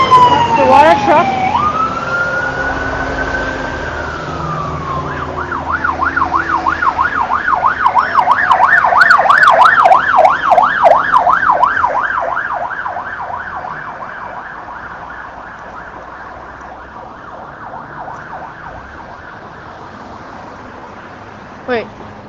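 Police water cannon truck at a Hong Kong protest sounds a loud siren, first a wail, then a rapid yelp that gradually fades as it moves away, leaving crowd and street noise.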